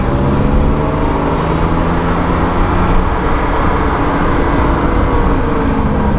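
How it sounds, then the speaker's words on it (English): A 1973 BMW 3.0 CSL engine pulls hard and steady while the car accelerates, a dense continuous drone heard close and loud with no talk over it. "let you guys hear the car and put it through a couple gears"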